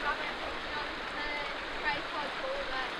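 Steady rushing wash of a river stream flowing close by a wild campsite, continuous broadband water noise with no break across the whole stretch.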